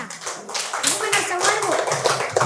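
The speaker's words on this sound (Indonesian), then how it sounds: "tepuk tangan dulu untuk kita semua" A class of children claps hands together during a coding and artificial intelligence training lesson, a quick, close burst of uneven taps with young voices and talk over it.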